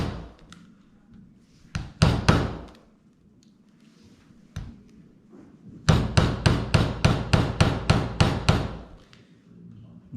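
Several scattered knocks give way to a quick, steady run of about a dozen hammer taps, fairly close and sharp, then a single final strike.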